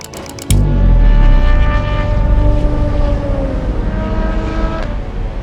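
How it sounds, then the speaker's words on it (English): A race car engine at the Road America circuit in the Wisconsin countryside roars in suddenly after a brief rattle, then drones loud and steady with harmonic tones that slowly shift as it passes. "the quiet countryside is disturbed several times a year with the sound of race cars"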